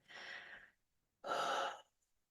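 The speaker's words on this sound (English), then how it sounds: "Another deep breath" A close, audible deep breath: a short airy inhale followed after a brief pause by a stronger, fuller exhale, clear and alone without any talking, taken as part of a guided energy healing session.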